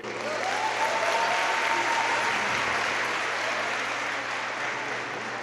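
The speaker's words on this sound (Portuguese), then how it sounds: "Vamos receber com uma salva de palmas João Paulo Rodrigues" Large congress audience in Curitiba giving a speaker a welcoming round of applause, a continuous, even wash of many hands clapping from a full hall.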